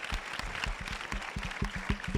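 An indoor audience claps at a poetry prize ceremony, a brief round of moderate applause with distinct individual claps, fairly close, no voices over it.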